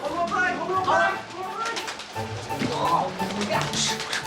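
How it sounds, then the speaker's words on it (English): Baby pigeons coo softly on a film set with an apartment interior. The gentle cooing blends with people talking nearby and light background bustle. "They had these amazing baby pigeons"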